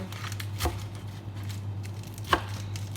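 A knife cuts bread on a board with two crisp, separate chops, one early and one later, over a quiet low hum.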